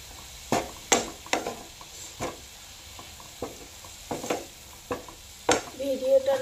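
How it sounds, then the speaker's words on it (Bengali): Food frying in a pan is stirred with a utensil, giving repeated sharp scrapes and clanks against the pan over a low background sizzle. "এবার এটাকে আবার একটু নেড়ে চেড়ে নিচ্ছি।"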